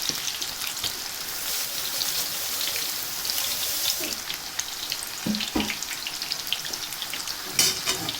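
Pakoras frying in hot oil in a home kitchen give a steady, close sizzle and crackle throughout, with a few brief clatters from a fish slice turning them near the end.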